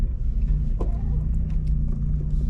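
A manual Subaru BRZ pulls away in first gear, its engine a steady low rumble heard close from inside the cabin, with a few faint clicks above it.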